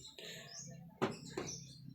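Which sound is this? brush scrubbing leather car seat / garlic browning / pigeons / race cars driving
pigeons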